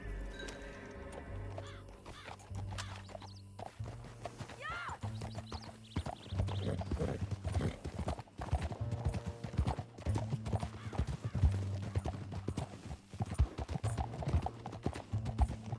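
Steady clip-clop of horse hooves trotting over a bed of music in the video game Red Dead Redemption 2, with a horse whinnying partway through; continuous and moderately loud.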